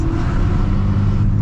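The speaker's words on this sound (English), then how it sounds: "he downshifted for us" A Nissan 350Z downshifts in stop-and-go rush hour traffic, its engine note rising in a steady, loud revving drone with no voices.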